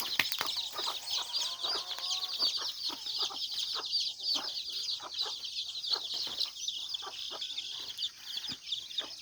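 Young bantam and labuyo cross chickens, a free-range batch, clucking and peeping continuously in a dense overlapping chorus, close by, with no talking.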